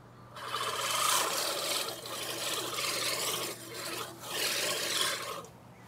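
A cheap budget lawn mower bought from Amazon cuts through tall grass, giving a steady, loud rasping whir that surges and dips in waves with brief lulls, heard alone without voices.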